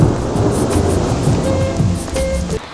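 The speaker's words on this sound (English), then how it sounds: "rainstorms pouring from the heavens, thunder and lightning" Heavy pouring rain roars steadily throughout a thunderstorm, with low rumbling thunder rolling underneath and brief crackling bursts; loud, dense and continuous until it drops off abruptly near the end.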